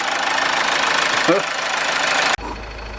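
A Mazda CX-5 engine idles after an oil pump chain and timing chain replacement, a steady close mechanical hum that cuts off abruptly near the end.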